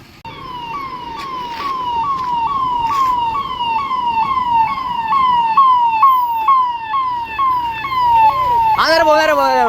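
A Kerala fire and rescue vehicle's siren wails loudly and close by in a steady run of rising-and-falling sweeps, then switches to a faster warbling yelp at the end.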